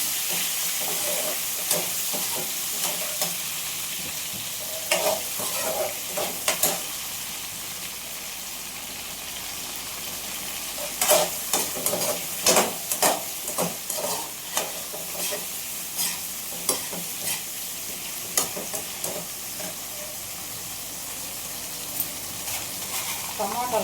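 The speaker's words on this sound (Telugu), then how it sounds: "ఈ ఆయిల్లోనే టమాటాలు వేసుకోవాలి" Tomato pieces fry in hot oil in a pan for a coconut chutney, a steady broadband sizzle with repeated stirring scrapes and clatters, close and moderately loud throughout.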